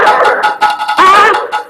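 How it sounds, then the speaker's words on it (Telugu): Several dogs bark loudly and close by in a village, a burst of rapid barks and yips with a brief whimper, alone without talk. "కుక్కలు బాబాయ్"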